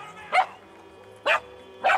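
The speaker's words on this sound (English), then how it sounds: "And I'm a dog." A dog in the video game GTA 5 gives three sharp, loud barks, evenly spaced and close, each standing alone against a quiet low hum.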